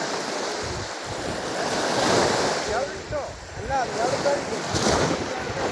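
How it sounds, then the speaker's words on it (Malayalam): Sea waves breaking on the shore during a fishing outing, a steady rushing surf with wind buffeting the microphone and faint seabird-like calls in the middle, continuous and fairly loud. "അപ്പം നല്ല തിരയായി കേട്ടോ വെള്ളത്തിന്"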